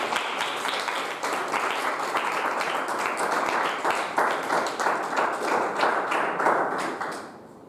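A church congregation at a Sunday school gathering in Genoa, Italy, claps steadily and fairly loudly for several seconds in a dense, even rhythm before it fades at the end.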